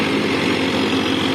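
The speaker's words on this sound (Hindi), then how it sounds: "ट्रैक्टर से ऐसे जोड़ के मशीन को चलाया जाता है" A tractor running a wheat threshing machine on a farm churns out a steady, loud mechanical drone, with an even engine rumble throughout the short stretch.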